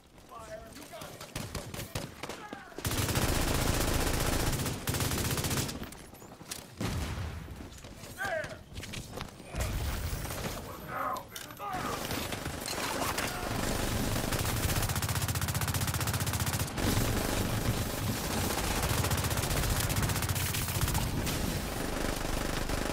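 Enemy gunfire rattles in a shooter game, with bursts of rapid automatic fire and sharp shots that come in heavy waves, loud and dense, while someone talks over some of it.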